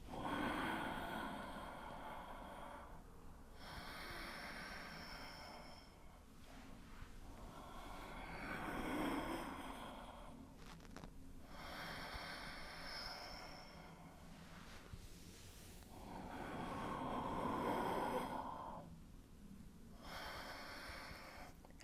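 Slow yoga breathing, long audible inhales and exhales repeating in a steady cycle of roughly five seconds, close and fairly soft, with no talking over it.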